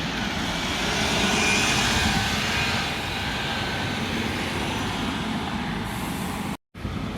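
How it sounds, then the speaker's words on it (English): A bus, listed as an Alexander Dennis Enviro 400 on route 97, pulls into the Gloucester transport hub with a loud, steady engine rumble and a roar that swells then holds, and no talk. "15351, Alex Parent coming in on a 97."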